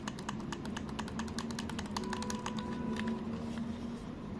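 Repeated clicky trigger presses on a Gulikit KK3 Max gamepad with textured triggers, a steady run of quick, close, crisp clicks for several seconds over faint background hum.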